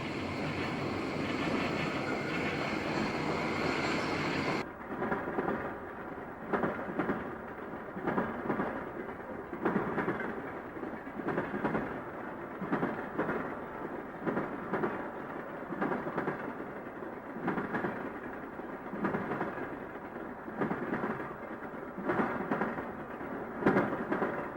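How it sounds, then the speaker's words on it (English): A freight train on the Wabash line rumbles across a railroad diamond at OJ Tower, beside concrete arches from the 1920s, with a loud steady roar and a rhythmic series of wheel clatters and thumps as the cars pass. "Train number KD-12 arrives at OJ Tower. As it crosses the diamond, we get a look at the concrete arches erected in the 20s."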